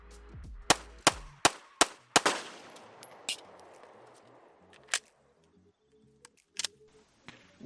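A Taurus G3 pistol fires a quick run of about seven sharp, close shots, then goes quiet except for faint clicks and handling noises as a malfunction stops it.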